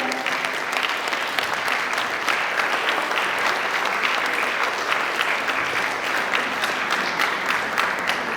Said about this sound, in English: A standing ovation for the founder.